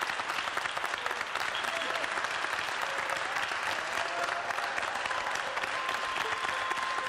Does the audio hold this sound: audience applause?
yes